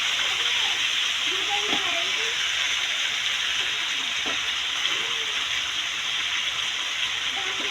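Eggplant frying in a pan, giving a steady, loud, broadband sizzle that continues without break, with a voice speaking over it.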